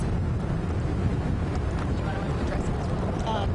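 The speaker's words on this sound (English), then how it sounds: "It's so windy here." Heavy, continuous wind buffeting an outdoor microphone, a dense low rumble that holds steady throughout and drowns out any other sound.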